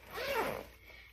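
A zipper on a Foldie travel bag is pulled in one quick, rasping stroke, close and fairly quiet.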